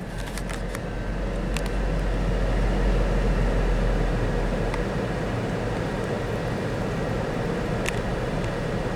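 A big CN freight locomotive on an eastbound run rolls past at Battle Creek, Michigan, giving a continuous low rumble with steady roar and a few sharp metallic clicks, loud and sustained without letup.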